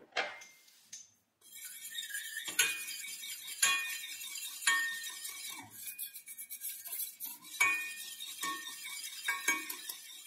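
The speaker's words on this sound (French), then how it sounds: "on va mélanger la farine, afin d'éviter qu'il n'y ait des grumeaux" A whisk or spoon stirs flour into cold water in a saucepan for milk bread dough, making quiet scraping and clinking against the pan in uneven strokes, close and with no talk.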